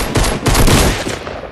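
Pistol gunfire in the video game Fortnite, a loud, close burst of rapid shots packed together over a second and a half with no talk.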